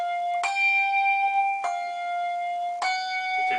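Three handbells woven in alternation with table damping, each clear ringing strike about a second apart, the sustained tone stopped as the next bell rings, close and unaccompanied.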